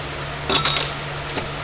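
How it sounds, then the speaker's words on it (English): A card scraper drawn across wood on a copper and wood lamp project, a short bright rasping scrape of about half a second followed by a fainter brief stroke, close and alone. "Just hit it with a card scraper a few times"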